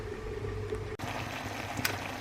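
Pork goulash bubbling in a pot, a soft continuous simmer with a faint low hiss and a tiny pop near the end, quiet and steady with no speech.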